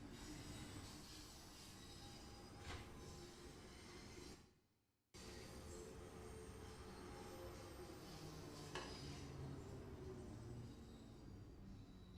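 London Underground Bakerloo line train in a train simulator game rumbling and clattering steadily as it arrives, with a brief dropout midway and faint squeal, no talk over it.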